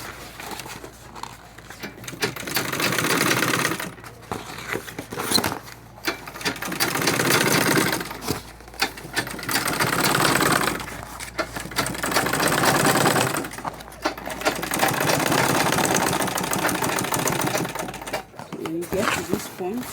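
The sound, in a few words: sewing machine stitching a bag body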